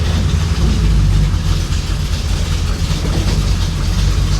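1966 Chevrolet Impala engine running with exhaust pressure, a loud, deep, steady low rumble and throb close by, continuous without pauses.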